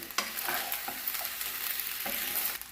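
Paneer fried rice with masala is stirred in a pan, with a steady close sizzle broken by scraping spoon strokes at uneven intervals and no voices.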